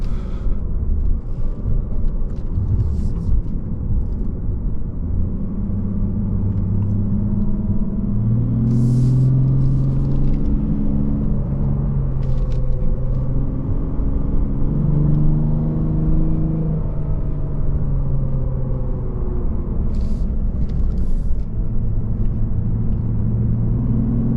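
A 2022 Lexus RC350 F Sport's engine drones steadily from inside the cabin while driving a mountain road, with rising and falling tonal revs as the car accelerates and shifts, continuous and fairly loud throughout.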